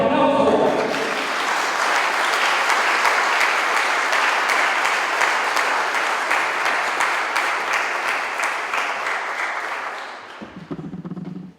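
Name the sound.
audience applause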